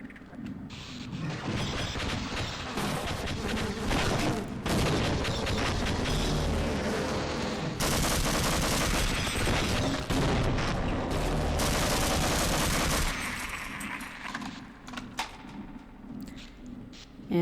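Machine gun fire against aliens in the video game Half-Life, with long loud sustained bursts and clattering mechanical noise that stop and start, ending in quieter scattered sounds.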